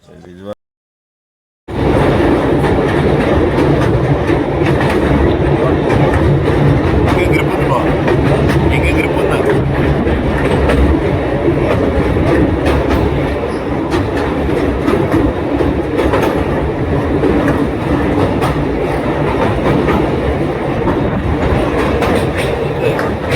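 The Saurashtra Superfast Express 19016 passenger train rolls steadily on the rails in Gujarat, between Rajkot and Vadodara, with a constant loud rumble and rhythmic clatter, after a brief quiet start; voices talk faintly underneath.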